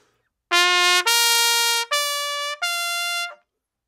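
An overblown trumpet plays four sustained notes, each flat, harsh and brassy with very bright, buzzy overtones, loud and close, separated by brief gaps.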